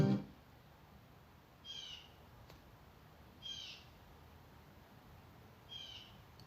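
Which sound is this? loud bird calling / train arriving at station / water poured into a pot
loud bird calling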